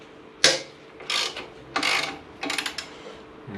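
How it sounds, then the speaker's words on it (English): Ratchet on a Subaru loosening the alternator bolt: several separate bursts of rapid clicking pawl, close and fairly loud, with short pauses between strokes and no talk. "let's loosen off the alternator"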